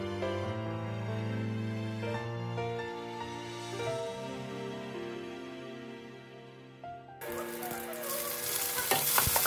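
Mustard seeds and garlic hit hot oil for a sail fish curry, bursting into a loud, dense spluttering crackle late on, beneath steady background music.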